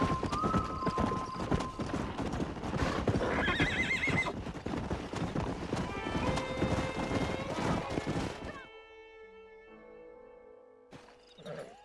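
Horses in the western video game Red Dead Redemption: repeated loud whinnies and neighs over clip-clopping hooves, then a quieter stretch with a lingering tone near the end.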